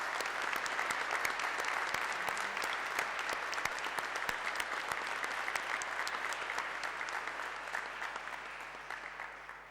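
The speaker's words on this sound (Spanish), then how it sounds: "los recibimos cordialmente con un aplauso de bienvenida" Sustained applause from a large crowd at a church Mass, steady and even throughout, heard from a moderate distance in a reverberant hall.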